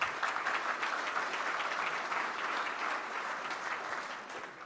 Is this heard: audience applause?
yes